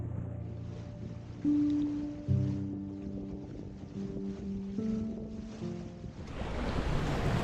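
Sailboat under way off the Mull of Kintyre between Campbeltown and Gigha, with steady wind and wave wash and a low hum throughout, rising into louder broadband rushing near the end.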